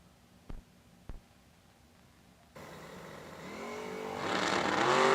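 Drag racing at a raceway, a Camaro against a small-tire Nova: after two sharp knocks, engines burst to life and roar loudly, building steadily in pitch and power as the cars launch down the strip.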